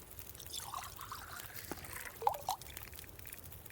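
Water trickles and pours while birch bark tea is prepared in The Long Dark, a quiet, steady liquid dribble with a couple of brief clinks near the end; no voices.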